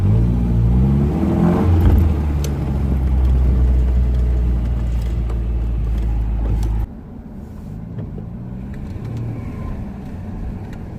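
A Triumph Spitfire 1500 sports car engine with SU carburetors drones loudly and steadily while driving, then drops to a lighter, quieter hum partway through.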